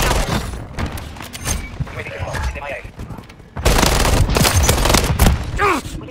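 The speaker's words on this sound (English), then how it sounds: "Took a round! Dropped him! Taking effective fire!" Call of Duty gameplay fills with rapid gunfire bursts and grenade blasts, loud and continuous with a sudden heavier surge midway, under a character's shouted combat callouts.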